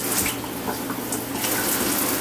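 Water runs steadily from a Delta shower valve set to hot, a continuous broadband hiss and splash of spray filling the whole stretch, close and fairly loud, with no voices.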